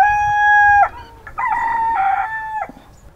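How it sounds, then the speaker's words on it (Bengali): A rooster crows loudly and close in a village setting, a drawn-out call, then a second broken crow after a short pause, with faint clucking from chickens underneath. "এখানে দেখুন সব মুরগি,"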